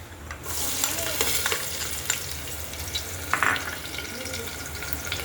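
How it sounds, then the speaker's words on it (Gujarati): Cumin seeds, curry leaves and potatoes sizzle steadily in hot oil, a continuous close crackling fry with a few sharper pops and scrapes of stirring. "હવે તેલ ગરમ થઈ ગયું છે તો એમાં આપણે જીરું, લીમડો અને બટેટા એડ કરશું."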